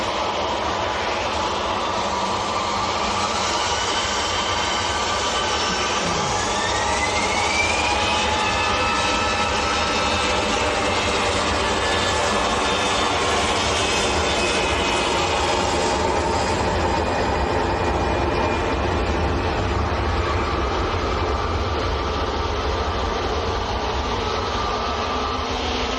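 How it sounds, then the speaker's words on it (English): An EasyJet jet airliner departing Manchester Airport for Alicante roars loudly and steadily, a dense engine rumble with a rising whine sweeping upward early on, sustained and close throughout. "So that was EasyJet to Alicante."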